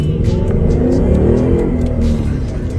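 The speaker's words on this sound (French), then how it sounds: "je vous conseille d'ailleurs d'ouvrir les fenêtres pour profiter au mieux des sonorités du V8" A Ford Mustang GT 5.0 V8 engine revs hard and steadily, a deep, loud, throaty roar rising and holding close by with no talking.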